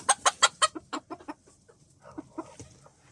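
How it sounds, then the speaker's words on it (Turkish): Chickens and roosters in a backyard coop with breeds such as Ameraucana, Australorp and İspenç, a rapid burst of close, loud clucks followed by quieter scattered clucking. "Buradaki horozlarımızı gösterelim."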